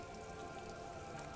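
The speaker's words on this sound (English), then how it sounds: "All around you, rain keeps falling down." Steady rain falls on wooden boards and open water, a dense, even patter of drops that continues without pause at close range, with no voices.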